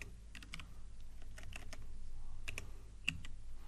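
Quiet, close clicks of a computer keyboard in short irregular bursts, with pauses between groups of keystrokes and no voices.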